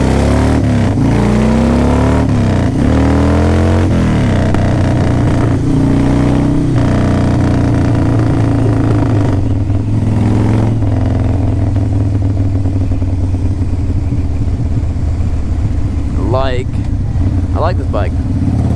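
A 2003 Harley-Davidson Softail Standard Anniversary Edition motorcycle revs loudly and close by, its engine rising and falling through repeated throttle blips over a steady rumble, with a voice talking over it.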